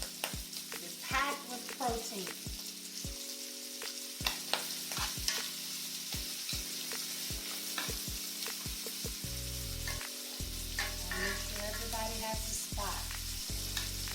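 Shrimp cook in a large cast iron pan with a quiet, continuous sizzle and crackle, occasional stirring ticks, and soft background music underneath; no one talks.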